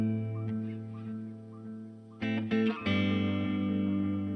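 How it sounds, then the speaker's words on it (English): An electric guitar, a Gibson Firebird through a reverb delay pedal, plays sustained notes and a few chords, with a smooth, lingering echo and reverb tail trailing behind each one, without talking. "It's a reverb delay."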